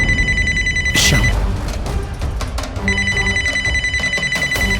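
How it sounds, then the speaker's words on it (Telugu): A telephone rings with an incoming call in a Telugu TV serial scene: a bright, trilling electronic ring sounds, stops briefly under a loud hit and other noise, then resumes, close and clear. "రాధా, శ్యామ్ ఫోన్ చేస్తున్నాడు, కాసేపు మాట్లాడకుండా ఉండు."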